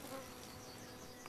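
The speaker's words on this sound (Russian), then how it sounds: "Что-то слышно жужжит. А, это майских столько здесь летает." Cockchafers (May beetles) buzz in a lime grove, a steady, dense swarm-like drone filling the air, soft but continuous with no voices.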